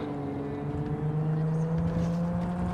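A car engine in Cyberpunk 2077 drones steadily with a rising pitch, loud and continuous, while a voice talks over it.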